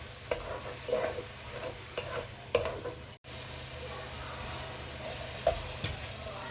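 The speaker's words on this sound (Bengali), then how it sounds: "এরকম আমি খুব ভালো করে ভাজবো" Mutton masala curry frying in a pan, with a soft, continuous sizzle and occasional stirring scrapes, broken by a brief dropout near the middle.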